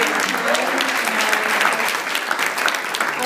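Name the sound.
applause for political forum candidates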